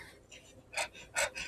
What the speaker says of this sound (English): Panting from all that running.